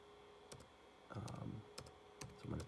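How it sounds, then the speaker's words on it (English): Bursts of computer keyboard key presses as an IP address is typed in, short clusters of quick clicks separated by brief pauses, close and fairly quiet with no voices. "So I'm going to type in the actual IP address of my"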